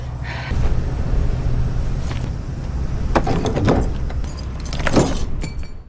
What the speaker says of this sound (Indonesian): ia mendengar kedatangan sebuah mobil yang sepertinya adalah Mark